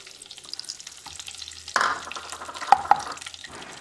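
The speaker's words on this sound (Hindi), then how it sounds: "अब ड्राई फ्रूट रोस्ट करने के बाद हम जो घी है हमारा उसको भी डाल लेते हैं।" Hot ghee going into a pan where dry fruits have just been roasted for moong dal halwa: a sudden soft sizzle and stir, then a couple of sharp drips or clinks, close by, with no talk.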